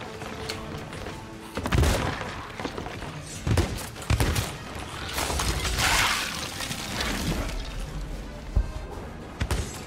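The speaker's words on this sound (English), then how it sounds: "I heard cannon shots, are they close?" Cannon shots in the Sea of Thieves video game, several heavy thumping booms scattered at irregular intervals over creaking ship and water noise, fairly close and loud, with people talking at times.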